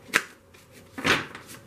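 Two quick bursts of tarot cards being shuffled, a short riffle followed by a longer, fuller one, close and fairly quiet with no talking.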